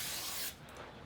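Vegetable cooking spray hisses onto an 8x8 baking pan in one steady, close burst lasting about half a second, then stops and leaves quiet kitchen background.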